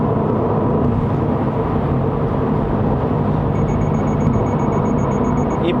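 Toyota GR86 with a six-speed manual cruising at about 110 km/h near 3000 rpm, a steady, dense engine and road drone heard from inside the cabin, with a faint chime toward the end.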